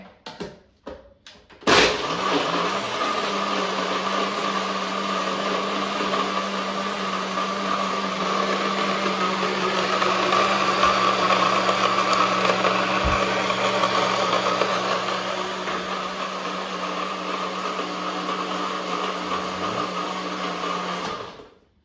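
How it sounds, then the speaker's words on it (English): A click, then a blender motor whirs steadily and loudly for about twenty seconds, blending a chocolate banana protein shake, before cutting off. "And now let's just blend it together in a blender."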